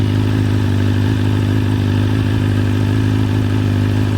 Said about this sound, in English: the internals on this motor are just super loud